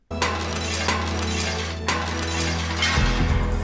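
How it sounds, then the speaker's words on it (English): Glass shatters repeatedly in a Tekken fighting-game cutscene as Paul smashes pane after pane, a loud sustained crashing over a steady low hum, with a fresh burst near the middle and another toward the end. "So he smashes some glass and then he smashes some more glass"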